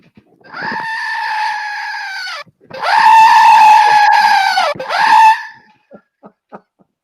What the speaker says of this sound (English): Sounds like an Aussie kookaburra